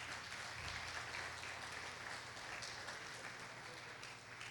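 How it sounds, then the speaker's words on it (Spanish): Congregation in a Spanish-speaking church service applauds to welcome guests: steady, dense clapping from many hands, fairly distant and muted, continuing evenly for several seconds with a faint hum underneath. "Denle un aplauso."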